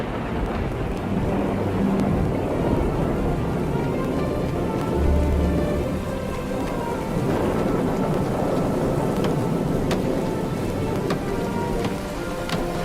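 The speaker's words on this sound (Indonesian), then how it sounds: "Lalu turunlah hujan," Steady heavy rain pours throughout a thunderstorm, with low rumbling thunder rolling underneath, continuous and fairly loud with no voices.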